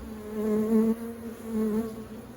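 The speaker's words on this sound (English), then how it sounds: "This bee right here that has pollen on it is doing a little waggle dance" Honeybees buzz close by in a top-bar hive in a steady droning hum that swells and fades, the tone wavering slightly as they move.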